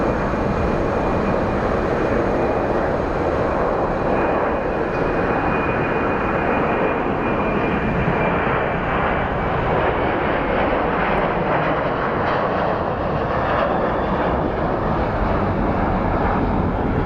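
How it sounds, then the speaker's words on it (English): An airplane comes in to land at Phoenix Sky Harbor International Airport, its engine roar a loud, steady broadband rumble that holds throughout without a break. "looks like we have a landing incoming, so let's go take a look at that landing"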